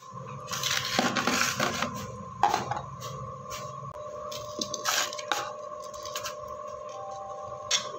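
Clinks and scrapes of a tiffin box being packed with rice and gundruk in a home kitchen, light metallic taps and rattles scattered over a low background hum.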